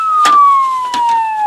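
A police siren wails with a steady falling tone, loud and close, while brief bursts of other noise cut through it.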